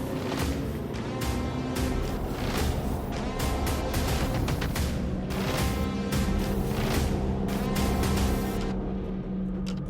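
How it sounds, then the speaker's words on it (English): Race cars at a circuit rolling out for a Supacup race, engines droning loudly and continuously with layered revving and passing roars, dense and close throughout. "Cars are rolling out."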